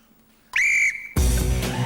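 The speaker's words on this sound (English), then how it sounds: "I'd like you to start chipping away on my whistle." A single sharp referee-style whistle blast starts a golf chipping contest, loud and close after near silence, followed by a burst of crowd noise.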